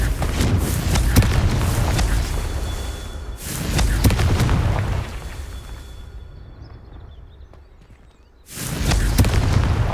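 Deep rumbling booms of a Confringo fire spell exploding in Hogwarts Legacy, three heavy blasts with long rolling decays, the last rising after a near-silent gap.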